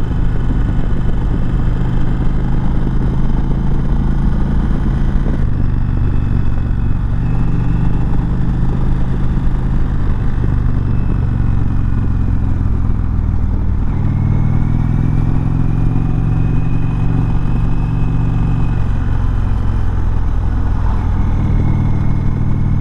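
2019 Indian Chieftain Dark Horse motorcycle engine while riding in third gear at about 50 mph and just over 3,000 RPM, a steady loud low rumble with shifting throttle tones and wind noise throughout.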